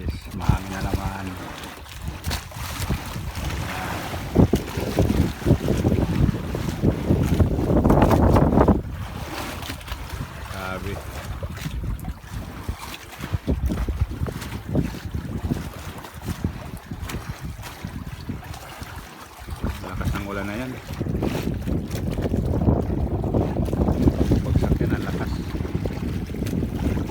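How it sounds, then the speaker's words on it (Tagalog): Strong wind buffets a boat out on the open sea, producing loud, gusty roaring and microphone rumble, with waves sloshing underneath and someone speaking at intervals. "Yan mga guys, mahangin na naman."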